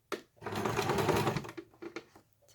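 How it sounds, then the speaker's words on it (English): A home sewing machine runs slowly through several thick layers of fabric on a beginner's peg bag: one sustained close whir, then a few short stop-start bursts. "your machine's going to go through more fabric, so you might just need to go a bit slower"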